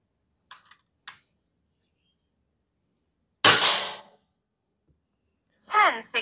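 A GS88 M8 airsoft rifle fires one sharp, loud shot with a brief burst and quick decay, after a few faint clicks. Speech follows shortly after.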